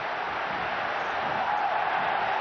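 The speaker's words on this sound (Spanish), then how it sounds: "Y los aplausos" Stadium crowd at a San Lorenzo versus Boca football match in Bajo Flores, a steady wash of applause and crowd noise held at an even, fairly distant level throughout, with no distinct claps standing out.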